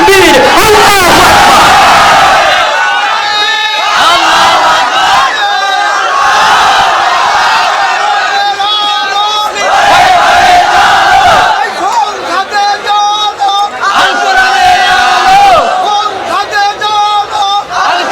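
A large crowd roars a takbir chant in unison at an Islamic religious gathering in Bangladesh, loud, close and sustained with repeated surging shouts and no separate speech.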